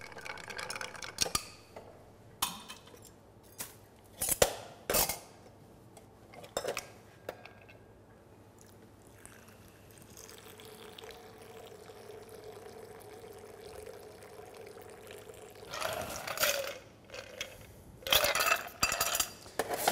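A Wild Geese golden rum cocktail is stirred over crystal clear ice in a mixing glass, with bright intermittent clinks and rattles of ice, a softer swirling stretch in the middle, then more clinking near the end, no voices.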